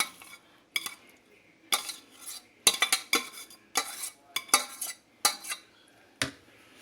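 Spoonfuls of cooked sausage are dropped into a lasagna filling in a pot or bowl and stirred, giving a string of close, irregular metallic clinks and scrapes of a utensil against cookware, with no talking.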